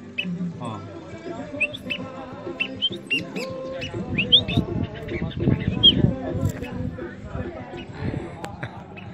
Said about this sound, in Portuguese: E tá piando lá, ó.